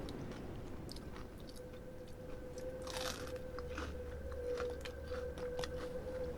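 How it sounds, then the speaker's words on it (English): Crunchy, full, huge onion ring being bitten and chewed close up at a wings-and-rings mukbang, with repeated crisp crunches and wet chewing throughout and no talk. "this is the standard that all onion rings should be. Crunchy, full, huge."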